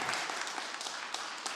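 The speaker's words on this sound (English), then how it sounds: "Big round of applause for Thomas." An audience applauds at a pitch competition finale, steady clapping from a crowd, a short burst at moderate level.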